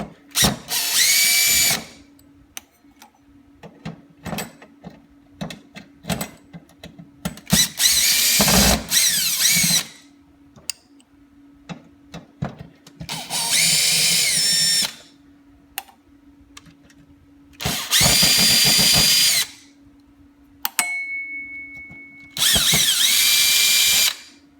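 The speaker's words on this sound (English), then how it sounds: "I'm actually gonna switch over to a drill here." A power drill drives screws while an LED reef light is converted to a new PCB board, giving several loud close bursts of whirring. The bursts are separated by quieter clicks and handling noises.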